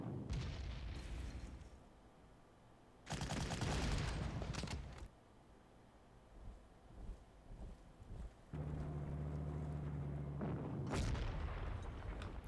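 Artillery fire in the World War II strategy game Panzer Corps, with repeated heavy blasts and rumbling explosions in separate loud bursts between quieter stretches, and no talk.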